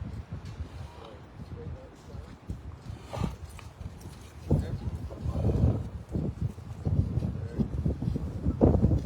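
Horse hooves clip-clop on the ground as the horse speeds up, the beats growing louder and denser toward the end, mixed with wind noise and a person speaking nearby.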